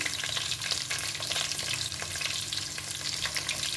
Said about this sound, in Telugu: ఉల్లిపాయ ముక్కలు వేస్తున్నానండి